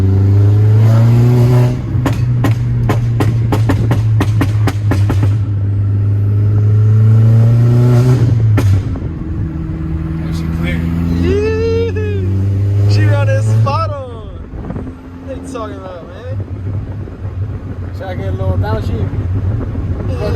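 A Volkswagen MK4 GTI drives on the road with a steady engine drone and wind rumble inside the cabin. The engine note shifts pitch as it changes speed, and voices are heard faintly at times.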